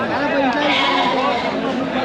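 Sheep bleat close by over a busy crowd murmuring at a goat and sheep market in Hoskote, Bangalore Rural District, several wavering calls overlapping through the short stretch.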